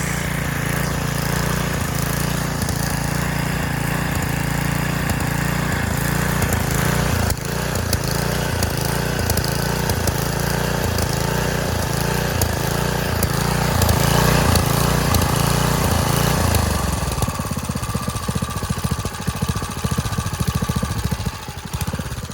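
A free, secondhand lawn edger's small gasoline engine runs steadily and loud, settling into an uneven, throbbing idle before the tone shifts near the end as the blade engages, with no talking.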